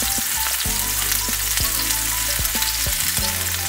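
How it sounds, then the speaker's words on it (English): Onion sautéing in a pan until soft: a steady, loud sizzle runs throughout with repeated scraping strokes of a utensil stirring, no voices. "you're going to saute this onion until it's nice and soft"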